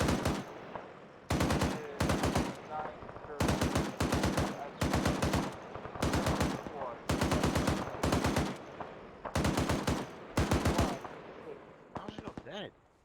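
Loud, close machine gun fire in the military game UNITAF comes in regular long bursts separated by brief gaps, each burst a dense rattling of rapid shots, with faint radio-style talk in between.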